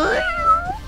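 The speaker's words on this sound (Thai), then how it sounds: "ทำไมมีน้องแมวเข้ามาอยู่ด้วย" A small cat on a sofa lets out one clear, drawn-out meow that bends in pitch, close and loud, with faint room noise behind it.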